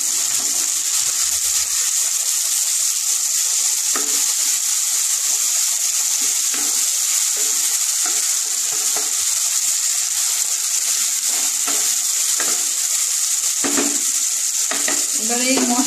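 Tomatoes fry in a pan for a Bengali-style yogurt cauliflower dish, giving a steady bright sizzle throughout, with occasional scraping stirs and soft clacks of a spoon close by.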